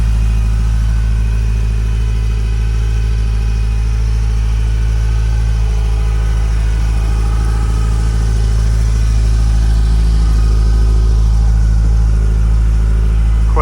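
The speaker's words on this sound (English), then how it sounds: "I'll do a quick walk around with the car running, so you can hear that idle" A 1981 Ferrari 308 GTSi with a 5-speed manual idles steadily close by, a loud, even low engine hum with a constant rhythm and no voices.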